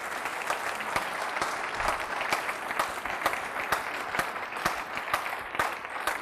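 Church congregation applauding during a sermon, a sustained, fairly quiet crowd of clapping hands with scattered sharper claps standing out over six seconds.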